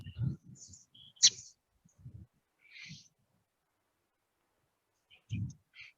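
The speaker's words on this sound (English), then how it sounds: "that's the call of the song sparrow." A few short, sharp song sparrow call notes at a wetland, sparse and separated by silence, with some soft low thumps and rustles between them.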